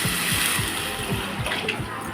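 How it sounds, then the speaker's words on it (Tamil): Water is poured into a cooking pot while rasam is being made, with a steady splashing and gurgling pour running close by for a couple of seconds. "தண்ணியை இதில் சேர்த்துக்கோங்க."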